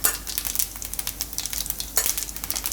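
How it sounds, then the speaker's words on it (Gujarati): Cumin seeds and asafoetida crackle and spit in hot oil, a close, busy sizzle with sharp popping bursts throughout the short stretch, no voices. "એમાં થોડુંક જીરું નાખશું અને થોડીક હિંગ નાખશું"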